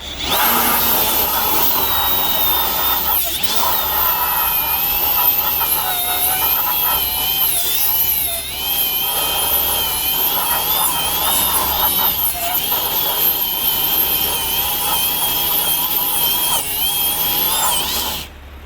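A Ryobi One+ die grinder fitted with a white disc rated for 15,000 RPM whines loud and continuous at a high pitch, with slight dips in speed throughout.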